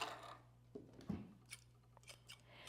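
Scissors snip thread after hand-sewing a wig unit, giving a few quiet, close, crisp cuts and clicks spread over a couple of seconds in a hushed room.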